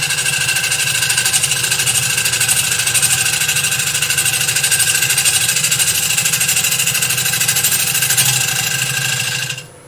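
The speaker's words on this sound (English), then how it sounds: "So I'm back on the lathe." Wood lathe turning a workpiece as the tool picks up a cut near the tip, a loud steady motor drone with a fast rhythmic chatter throughout, stopping at the very end.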